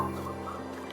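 Chickens in the farming video game Farming Simulator 22 cluck over a steady, low tonal drone in a short, moderately quiet burst.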